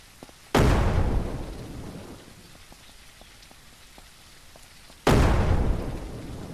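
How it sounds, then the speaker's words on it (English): Two frag grenades blow up in the game SurrounDead, some four seconds apart. Each is a sudden loud boom that fades over a second or so, with quiet gameplay noise in between. "I use the frag grenades as noisemakers. So you just keep lobbing frags and they'll just walk into them."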